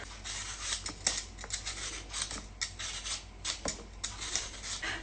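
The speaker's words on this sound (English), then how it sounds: "So start off by peeling your potatoes, and I like to use a potato peeler to peel my potatoes" Potatoes being peeled with a handheld potato peeler, a steady run of close, dry scraping strokes in quick irregular rhythm, fairly loud and with no talk.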